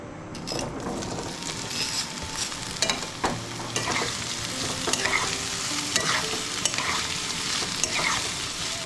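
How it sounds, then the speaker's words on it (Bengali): Jackfruit pieces frying in oil in a wok, a continuous near sizzle with repeated scraping and clattering of a spatula stirring. "এবার কড়াই খানিকটা তেল দিয়ে এঁচড়গুলো ভেজে নেব"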